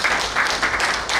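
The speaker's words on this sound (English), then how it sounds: "Let's clap hands for 10 years" At a business and leadership forum launching ICCC Tanzania, an audience claps to mark the organisation's tenth anniversary. The clapping is close, loud and irregular, in uneven pulses, over roughly a second.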